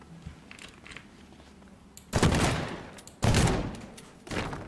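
Explosions in Teardown, two loud broadband blasts a second apart, each followed by rumbling, crumbling debris, over quieter background noise.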